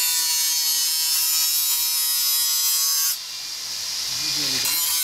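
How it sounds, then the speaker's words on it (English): A power tool chamfers the edge of a plastic drainage pipe with a loud, steady high whine that dips briefly and shifts pitch as it bites, close by and sounding alone. "Just got to chamfer the edge all the way around, so it goes into the pipe without breaking the seal."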